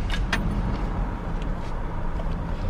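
A new truck's engine idles steadily right after starting, a close, low rumble that holds even throughout, with a few light clicks near the start.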